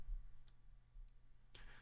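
A single mouse click on a computer while browsing in Chrome, a small faint tick standing alone against quiet room hiss.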